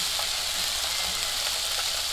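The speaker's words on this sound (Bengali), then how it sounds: "ওদিকে মাছ ভাজা করতে দিয়েছি কড়ার মধ্যে" Fish sizzles steadily in hot oil in a kadai, a dense, even frying hiss that fills the whole short stretch with no talking.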